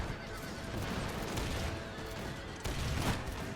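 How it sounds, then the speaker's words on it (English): Musket volleys crackle through a dense, roaring battle din in the Napoleonic strategy game Imperial Splendour, with horses neighing, hooves and distant gunfire layered together, and a louder surge of firing near the end. "Firing into the backs of the enemy over here"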